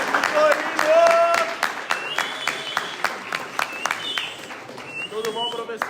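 Studio audience applauding a guest arriving on a dental-themed podcast, a burst of claps with whoops that thins into scattered clapping while people talk over it.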